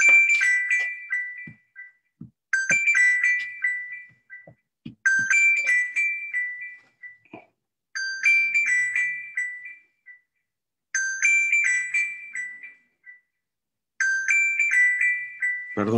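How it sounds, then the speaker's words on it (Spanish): A mobile phone ringtone goes off during an academic panel session, playing the same bright melodic phrase six times in regular bursts about two seconds apart, loud and clear, with a few faint knocks between bursts and no talking. "justo sonó mi teléfono en este momento"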